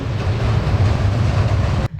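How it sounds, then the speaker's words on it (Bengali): A train crosses near Hardinge Bridge at Paksi, Pabna, as a loud, close, continuous rumble with deep low-end weight that cuts off abruptly near the end. "এই সাইডে ট্রেন যাচ্ছে ট্রেন"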